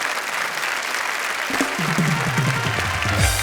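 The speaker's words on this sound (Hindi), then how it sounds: "जोरदार तालियां इनके लिए" Audience applause for poets on a comedy show stage, a bright burst of clapping from a crowd that continues steadily while a voice talks over it.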